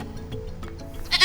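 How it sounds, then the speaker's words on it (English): A tied-up goat near a village house in the Gambia bleats in a wavering, crying call, close and fairly loud, ending with a brief brighter burst. "Isatou hears a goat crying and hurries toward Grandmother's house."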